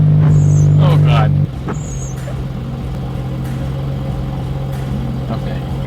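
A BMW 335i fitted with big twin turbos, upgraded F54 Super-TD04 units making over 700 hp, runs with a loud steady drone that drops to a lower idle hum after the first second and a half, with brief sharp squeals and faint talk over it.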